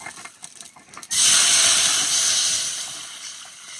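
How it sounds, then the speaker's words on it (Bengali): Water poured into a hot wok for cooking jute leaves, a sudden loud hiss and roar of steam after soft clatter, slowly easing off. "পাট শাক রান্না করার জন্য এবার কড়াইতে জল দিয়ে দেবো"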